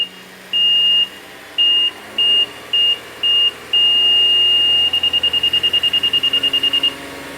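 An ATS Chemical 3C GDI carbon cleaning machine, on a 2016 GMC 3.6L, gives a series of high electronic beeps, first long and spaced, then one sustained tone, then a rapid run of short pulses, over a low hum.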